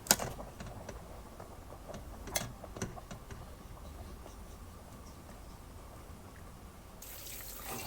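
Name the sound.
running tap water cooling blanched squid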